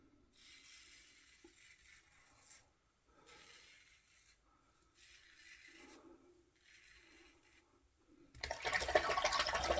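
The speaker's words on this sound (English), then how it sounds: "I just go to like weight of the razor only for under the nose because it's a sensitive area for me." Magnetic safety razor shaving under the nose, heard as soft, close rasping scrapes in several short bursts with pauses between, followed by a loud burst of rushing water at the end.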